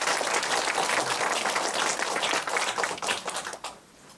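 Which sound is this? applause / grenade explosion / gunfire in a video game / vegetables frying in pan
applause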